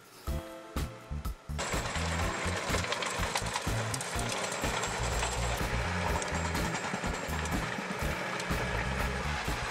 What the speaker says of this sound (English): The machine utilizes horizontal counter-rotating tines that rotate at high speeds.